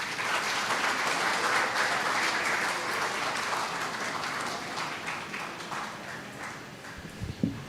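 An association awards ceremony audience in Calcutta applauds for their president, a full, sustained round of clapping that thins slightly toward the end with a few louder claps.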